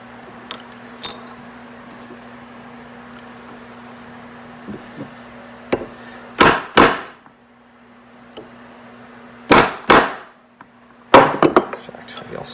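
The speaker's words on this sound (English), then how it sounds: "You can see the V that the chisel's make." A chisel is driven into wood, cutting V-shaped notches. Sharp, close mallet strikes fall in scattered pairs and short bursts, with quiet pauses and a low steady hum between them.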